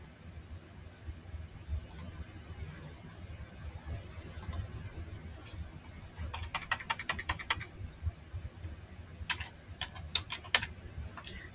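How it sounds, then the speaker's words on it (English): Quiet typing on a computer keyboard, scattered single key clicks at first, then quick bursts of rapid tapping, heard close over a faint room hum. "Since mine is going so slow, I figure it's better to type it."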